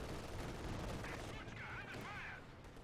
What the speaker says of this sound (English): this double barrage as well here from the SU-76